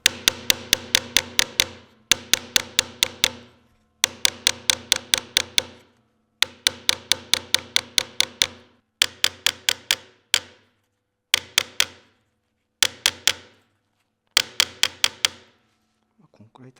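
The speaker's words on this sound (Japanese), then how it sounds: "ここをハンマーで叩いて、ちょっとこうすぼめるような感じにして" A hammer taps a broken wooden shoe tree from a VASS shoe as it is repaired, striking in quick bursts of four to six sharp, close blows separated by brief pauses, repeated steadily throughout.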